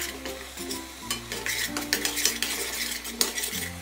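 Kashmiri chili powder masala is stirred in a pan for a chicken BBQ roll, giving steady scraping strokes of a spoon against metal over a soft, continuous sizzle and low hum, close and moderately loud, with no talking.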